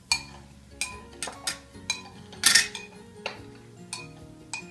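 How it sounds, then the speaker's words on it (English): A utensil stirring shrimp in a pan on a turned-off stove, producing a series of irregular metallic clinks and scrapes, one louder clatter in the middle, with no talking. "with that, you stir up the shrimp."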